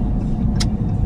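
Cars at a pop-up car show with little two-door coupes rumble loudly and steadily close by, with a brief hissing whoosh partway through.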